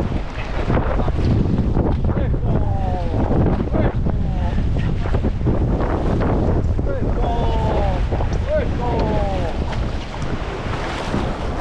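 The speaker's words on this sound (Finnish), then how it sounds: "Tuuli pääsee vähän ja jarruttaa tässä meidän meininkiä." Wind rushes steadily over a sailboat under way on open water, a loud, buffeting roar with water noise beneath and brief voices talking over it.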